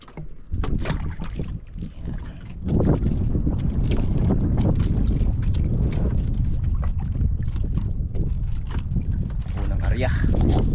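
Strong wind buffets the microphone with constant low rumbling, while voices talk faintly under the gusts.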